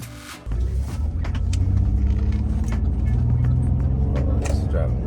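A Chevrolet Impala, just back after a sway bar replacement, drives along with a steady low engine and road rumble inside the cabin that begins after a brief quiet moment, and someone talks over it.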